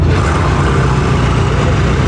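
A car engine with stock exhaust rumbles loud and close, a steady, deep, smooth drone with no breaks and no voices over it.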